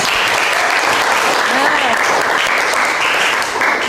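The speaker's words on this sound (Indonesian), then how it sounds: "tepuk tangan" A classroom of students applauds after a science lesson on viruses, with steady dense clapping sustained loudly throughout.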